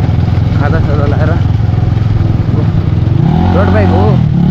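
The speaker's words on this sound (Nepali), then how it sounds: "रोड बाइक हो" A road motorcycle engine runs steadily and loudly nearby on a rural Nepali village ride, its droning hum continuous throughout while people talk over it.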